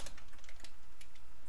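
Several quick, soft keystrokes on a computer keyboard, close by and quiet, with no voice.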